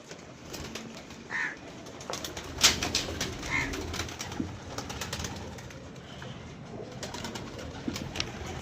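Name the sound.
pigeons cooing and flapping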